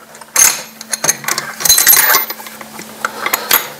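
Metal sockets from a mechanic's set are handled in a garage, giving sharp irregular clinks and rattles as they knock together, some louder clusters between quieter taps over a faint steady hum, with no talking.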